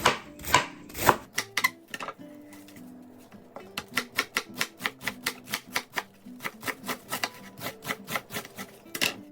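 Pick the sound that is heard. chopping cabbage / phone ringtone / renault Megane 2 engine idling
chopping cabbage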